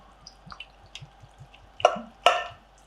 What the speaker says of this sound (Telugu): కొన్ని వాటర్ వేసుకుంటున్నాం.